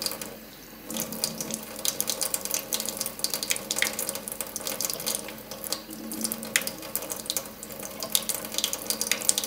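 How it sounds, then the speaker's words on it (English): Water trickling and splashing as it drips from a hand onto dahlia tubers, a steady close patter with irregular small splashes throughout. "I'm just gonna put some water in my hand and let it drip over just this section."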